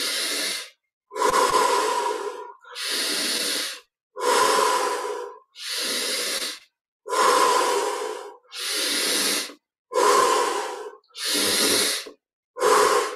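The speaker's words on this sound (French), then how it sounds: "Cinq, respire encore." Slow, deep breathing during a guided meditation, about ten long, loud, airy breaths in a steady rhythm, each separated by a short silence and heard close and alone.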